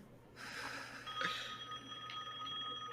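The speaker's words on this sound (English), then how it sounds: "Oh, Mom, your phone is ringing." A phone rings in a horror video game, its bright electronic trill sounding faintly, several times, over a low steady hum and soft breathing.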